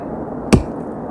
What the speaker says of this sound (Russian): лежит там какое-то бревно, попробую порубить